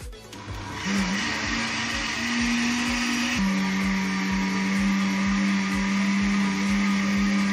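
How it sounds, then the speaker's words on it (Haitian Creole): A blender purees boiled vegetables for a cooking lesson, its steady motor whir loud and close, jumping to a slightly different pitch partway through and running continuously to the end. "Parti dans le deuxième blender."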